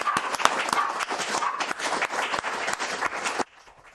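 Audience applause for a bride at a religious gathering, dense steady clapping from many hands for about three and a half seconds before cutting off abruptly to near silence.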